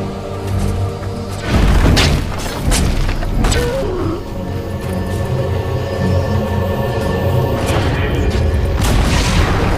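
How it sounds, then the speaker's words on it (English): The Dire middle tower collapses in Dota 2 with a heavy booming crash, followed by rumbling debris and ongoing battle effects over a dense game soundscape. "Dire's middle tower has fallen."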